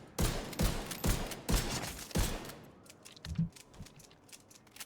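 A weapon in the video game The Division 2 fires rapidly, with about five sharp, loud shots in quick succession followed by fainter mechanical clicks and rattles.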